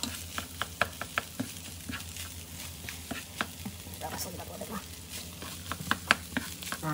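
Shrimp and vegetable fried rice with sesame oil sizzling in a pan while a utensil scrapes and stirs it, with repeated sharp clicks and scrapes over a steady frying hiss.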